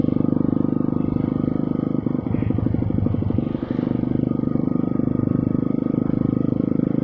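A Kawasaki KLX 150L trail motorcycle runs steadily close by during a trail ride, its engine a continuous low drone with a brief rattling clatter in the middle.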